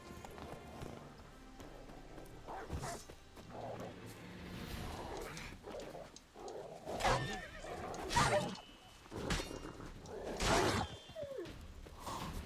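Roach the horse neighs and whinnies repeatedly with clip-clopping hooves in The Witcher 3 video game, the loud calls coming in bursts over a steady background.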